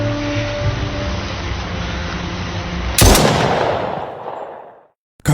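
A single loud gunshot in a gangster film scene, a sharp blast at about three seconds that rings out and decays over a steady background rumble.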